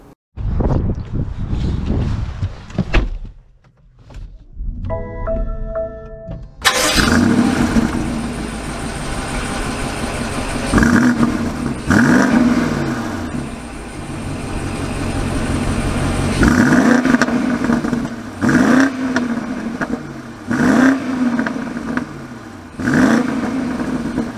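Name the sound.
BMW X7 M50i engine starting and driving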